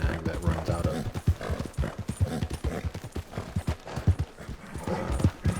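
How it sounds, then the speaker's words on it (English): A horse gallops in the Western video game Red Dead Online, its hooves beating a steady, rapid clip-clop rhythm that stays close and fairly loud for the whole stretch. "it's weird going from a crazy fast horse to the scrawny nag that runs out of"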